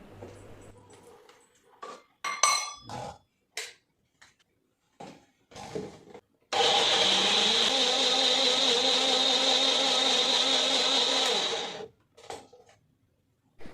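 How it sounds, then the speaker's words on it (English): A few clicks and knocks, then a kitchen mixer grinder whirs loudly and steadily for about five seconds, grinding chilli and garlic without water into a puree, before stopping, followed by light handling sounds. "Without adding any water, now grind this into a puree."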